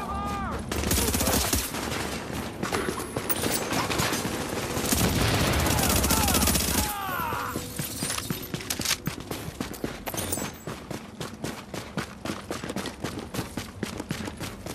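Gunfire in The Division video game, with rapid automatic bursts of loud shots in dense volleys, then a steady string of separate sharp shots continuing to the end.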